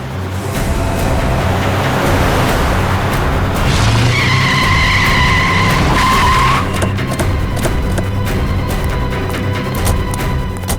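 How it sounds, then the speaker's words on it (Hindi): A car speeds and skids during a chase, with continuous loud engine roar and a sustained tire squeal in the middle, followed by further rumbling and scraping. "गाड़ी भगा भगा के वो जाएगी कहाँ?"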